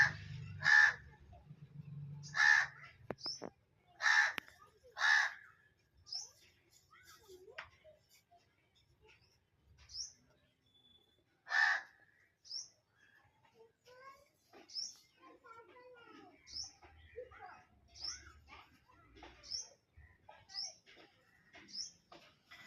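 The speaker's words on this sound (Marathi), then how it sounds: "कावळा रोज माझ्या दरवाजासमोर येऊन काव काव करतोय" A crow caws repeatedly at a house doorstep, four loud harsh caws in quick succession and then a fifth, followed by fainter scattered calls and chirps from other birds in a quiet outdoor setting.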